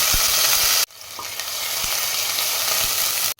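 Ginger, garlic and green chili paste hits hot oil and ghee in a pressure cooker with a sudden loud sizzle that carries on steadily, with a few faint stirring taps and no talking.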